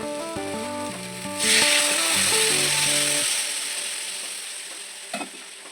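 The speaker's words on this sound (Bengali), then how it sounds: "ডুমুরটা কড়াইতে দেওয়ার পরে আমি হালকা আঁচে নেড়ে চেড়ে ভালো করে কষাবো।" Fig pieces are stirred in a kadai over low heat, with squeaky, rhythmic scraping at first, then a bright sizzle that swells and slowly fades, ending with a couple of light knocks.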